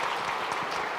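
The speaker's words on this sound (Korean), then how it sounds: "우리가 함께 박수로 축하하도록 하겠습니다." A church congregation at a Sunday worship service applauds a newly married couple attending together for the first time, a dense, steady wash of clapping from many hands filling the room without pause.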